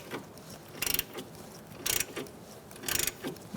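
Short ratcheting bursts from a 7mm Allen wrench socket loosening the brake caliper pins on a Fiat, three quick clicking runs spaced about a second apart, close up and without talk.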